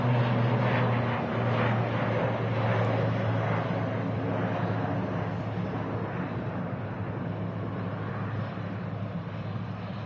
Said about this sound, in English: There's actually an Aer Lingus ATR just taking off on the runway as well